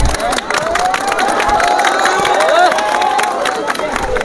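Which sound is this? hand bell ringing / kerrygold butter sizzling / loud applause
loud applause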